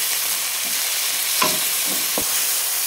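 Tomatoes frying in a pan are stirred, giving a steady soft sizzle with a few louder scraping strokes from the utensil, close and alone without talk.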